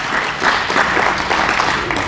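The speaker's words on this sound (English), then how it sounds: "Give her a round of applause," A school celebration crowd claps loudly and steadily in a burst of applause at close range, with no gaps.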